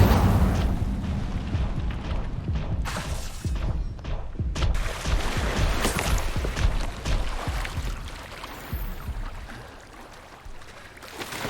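Fire spells blast repeatedly in a Hogwarts Legacy battle, a dense run of loud, booming, crackling bursts with rumbling low end, continuous and close with no talk.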